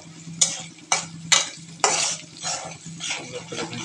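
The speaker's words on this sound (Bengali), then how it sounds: "পেঁয়াজটা সুন্দর করে নাড়াচাড়া করে ভেজে নিচ্ছে।" Onions fry in hot oil in a pan with garlic and green chilies for a leafy greens stir-fry. A spatula scrapes through them in sharp, rhythmic strokes about every half second over a steady close sizzle.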